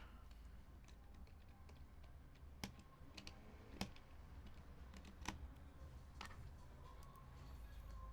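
A computer keyboard clicks faintly in a quiet room, typing in scattered single taps with irregular gaps over a soft background hum, with no talk.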